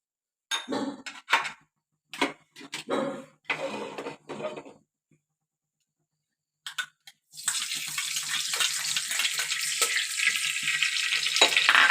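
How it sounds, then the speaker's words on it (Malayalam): A few short knocks and clatters, a brief pause, then a loud, steady sizzle as ghee hits a hot pressure cooker and keeps frying. "ഇനി അടുപ്പിലേക്ക് ഒരു 3 സ്പൂണ് നെയ്യ് ഒഴിക്കണം"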